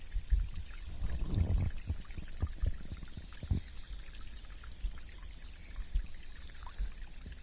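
A natural stream flowing over rocks, soft trickling and pouring water with gentle ripples and occasional low splashes, faint and continuous with no voices.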